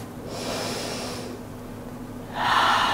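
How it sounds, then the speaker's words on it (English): Deep breaths during a yoga dancer pose, a long airy inhale followed by a pause and then a louder, forceful exhale at the end, close and with no talking. "And taking one more breath."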